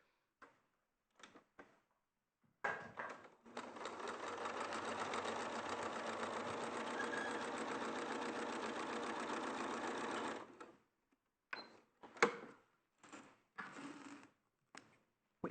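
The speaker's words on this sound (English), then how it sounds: "So we start on the edge of the fabric and we just sew all the way down." A sewing machine stitches quilting fabric from edge to edge in one steady run of about eight seconds, close and even, with soft handling clicks and knocks before and after.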